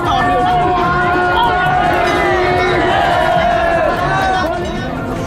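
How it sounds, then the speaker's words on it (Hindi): A crowd gathered at a fire-walking ritual over burning embers cheers and chants loudly and continuously, a dense wall of voices with shouted cries rising throughout. "लोगों का हौसला बना रहे, इसके लिए वहां मौजूद भीड़ ने जयकारे भी लगाए"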